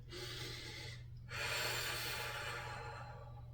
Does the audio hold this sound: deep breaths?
yes